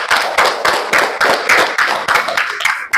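A classroom group claps in rhythmic bursts, roughly ten sharp unison beats over a few seconds, loud and near with no talking.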